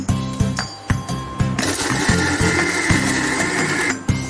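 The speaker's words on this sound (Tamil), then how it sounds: "இப்போ வந்து நம்ம இதை வந்து மிக்சியில் அரைச்சிக்கலாம்." A kitchen mixer grinder blending onion chutney starts with a few short, sharp motor pulses, then roars loudly and continuously for over two seconds before cutting off, close and without speech.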